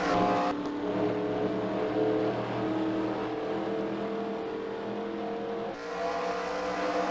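Loud, continuous roar of several race car engines accelerating together at a race start in Orlando, sustained with shifting pitch, no talking.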